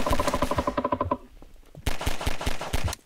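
Rapid automatic gunfire from the game Garry's Mod sounds in loud, close bursts. A fast volley cuts off, a short lull follows, then another burst of repeated shots.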